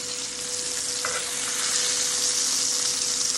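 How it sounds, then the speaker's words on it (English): A New York strip steak sears in a hot pan with a loud, continuous sizzle and frying hiss, close up and steady throughout, with a faint clink partway through. "right now, I'm finishing pan-searing this last steak"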